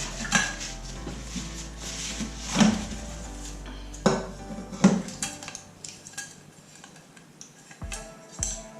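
Metal camping pots, lids and cutlery clinking and clattering as they are handled and packed, several sharp knocks then quieter rattling, close by.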